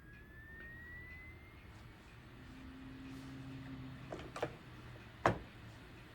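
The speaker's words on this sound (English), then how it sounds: "Oh, geez, the drive's spinning up. Now spinning back down." The hard drive in an Apple PowerBook Wallstreet laptop spins up with a faint rising whine, then settles into a low hum, with a few sharp clicks toward the end.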